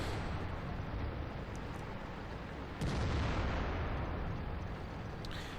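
In World of Tanks, FV304 self-propelled artillery guns fire at a mountain, heard as a continuous loud, rumbling roar of gunfire and blasts with a sharper boom partway through, no voices over it.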